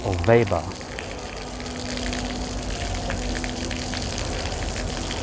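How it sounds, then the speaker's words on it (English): One of Klaus Weber's thinking fountains in London, its water gushing and splashing in a steady, continuous wash at fairly close range, with a brief burst of other sound at the very start. "this is one of the thinking fountains by Klaus Weber"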